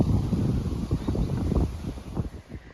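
Strong gusts of wind buffet the microphone, producing a loud, fluctuating low rumble throughout with no other clear sounds.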